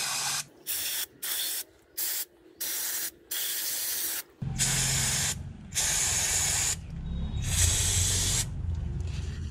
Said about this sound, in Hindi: सिर्फ स्प्रे से साफ करेंगे थ्रोटल क्लीनर से।